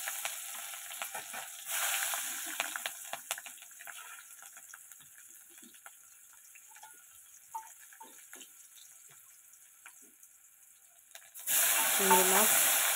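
Bay leaf, onion and garlic frying in oil in a pan: a loud sizzling burst early on, a quieter stretch of faint crackles and clinks, then a strong renewed sizzle at the end, with no talking.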